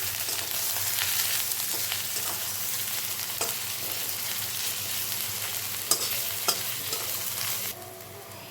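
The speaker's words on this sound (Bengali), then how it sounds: "এদিকে কড়াইয়ে বাকি তেলের মধ্যে আমি দিয়ে দিচ্ছি আদা আর রসুন কুচনো, আর দিয়ে দিচ্ছি 3টা লঙ্কা" Ginger, garlic and three slit chillies fry in oil in a wok, giving a steady, close sizzle with stirring scrapes and a couple of sharp clinks near the end before the frying noise drops away.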